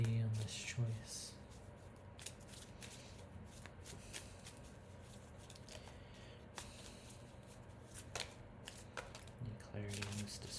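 Tarot cards are shuffled in a soft, continuous papery riffle that carries through the whole stretch, with a faint voice murmuring under it at times.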